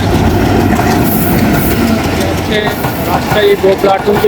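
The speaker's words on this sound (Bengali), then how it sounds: "আরও একটি ট্রেন এই স্টেশনে প্রবেশ করলো এটি এখানে থামবে না" A train rolls through Jagati railway station in Bangladesh without stopping, a loud, continuous rumbling roar, wheels clattering, and brief squeals and tones near the end.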